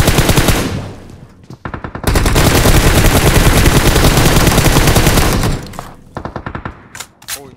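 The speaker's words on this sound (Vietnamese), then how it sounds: "Hai team bắn nhau nha, đang cộng nhau." Close, loud automatic gunfire rattles in PUBG Mobile as two teams shoot at each other: short bursts, then a long unbroken stream of rapid shots, then scattered choppy bursts trailing off.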